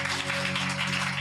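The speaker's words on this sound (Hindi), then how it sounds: "जोर से एक बार ताली बजाओ" A church congregation claps loudly and continuously over a sustained musical tone, a brief dense burst of many hands.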